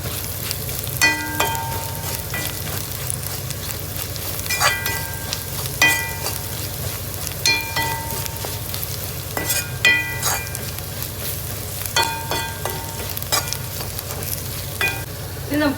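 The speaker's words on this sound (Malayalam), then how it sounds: "ഇനി നമുക്ക് എല്ലാം കൂടെ നന്നായി പച്ചമണം മാറുന്ന വരെ നന്നായി ഒന്ന് ഇളക്കി യോജിപ്പിക്കാം" A spiced mixture sizzles loudly in a pan as a spoon stirs it, with regular metallic scrapes and clinks repeating every second or two over the constant frying hiss, close up with no talking.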